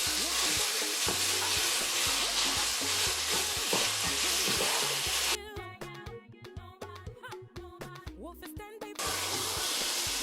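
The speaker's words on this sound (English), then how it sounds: "Why am I stirring the meat while frying it?" About half a kilogram of minced turkey fries in a pan with a constant loud sizzle and hiss, cut by a stretch of scraping and clattering as a utensil stirs the meat, then the sizzle returns.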